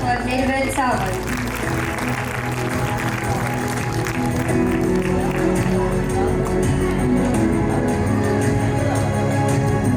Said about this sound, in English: A big round of applause for Nirvin Sawant.